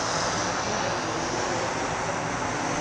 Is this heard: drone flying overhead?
yes